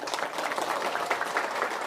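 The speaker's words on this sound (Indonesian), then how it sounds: "Tepuk tangan dulu." Audience applause at a community religious gathering, a short burst of many hands clapping in a dense, steady patter at moderate distance.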